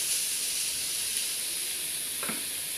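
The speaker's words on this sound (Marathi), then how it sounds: "हे वडी होईपर्यंत असं हलवत राहायचं" Chhena (paneer) and sugar cooking in a pan for barfi give a steady soft sizzle and hiss throughout, with a brief scrape of stirring near the end and no talking.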